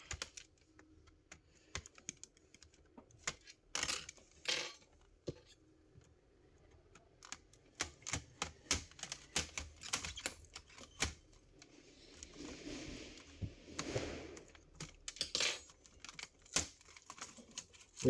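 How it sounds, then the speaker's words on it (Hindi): Laptop keyboard being pried out during disassembly after opening the C cover: a close, irregular series of sharp plastic clicks, snaps and taps, with a scraping rustle midway and no talk. "ये कीबोर्ड पहले निकालेंगे बाहर"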